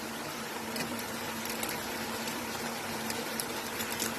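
Bottle gourd simmers in a pot with cumin powder, giving off a continuous soft bubbling and fizzing at moderate loudness, with no one talking.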